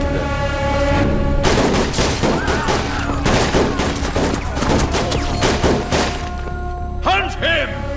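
Burst of gunfire and heavy thuds from a Hindi-dubbed South Indian action film, dense volleys rolling over dramatic music with shouted voices mixed in.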